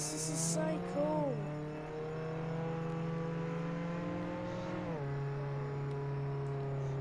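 A car driving in the Roblox Jailbreak video game, heard as a steady engine hum that rises in pitch as it revs, then shifts down and levels off, with no talking.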